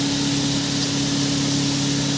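Tomatoes hit hot spiced oil in a pan for a Bengali Tangra fish curry, giving a steady, loud, hissing sizzle close up, with a constant hum underneath.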